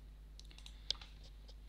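Soft, scattered keyboard typing, a handful of faint light clicks with one slightly sharper tap, over a low steady hum in an otherwise quiet room.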